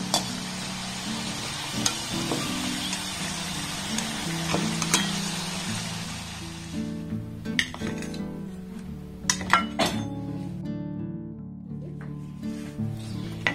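Coconut-filled puli pitha frying in hot oil, sizzling, with a utensil stirring and occasional clinks of metal against the pan.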